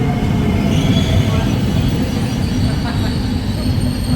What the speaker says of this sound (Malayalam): ഈ ട്രെയിനിലാണ് നമ്മളിപ്പം കയറാൻ പോകുന്നത്.